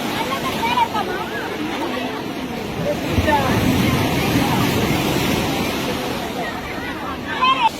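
Ocean waves wash in steadily along a beach in Tiruchirappalli, a broad, continuous surf rush that rises and falls under nearby voices chatting throughout.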